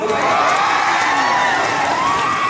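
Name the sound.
audience applause and cheering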